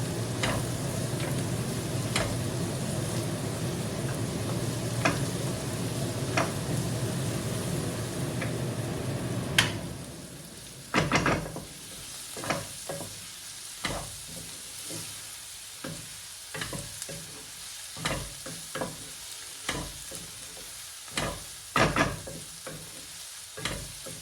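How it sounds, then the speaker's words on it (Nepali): Garlic and ginger paste frying in a pan for a Nepali dry mutton curry, a steady close sizzle for the first stretch, then broken by repeated scraping stirs and clacks of the utensil against the pan. "लसुन अदुवा राखिसकेपछि यसलाई पनि काँचो फ्लेभर जाने गरेर मजाले नास्तिकन भुट्नुपर्छ"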